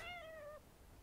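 A cartoon cat in the video game Little Inferno lets out a single short, clear meow that fades quickly into quiet background.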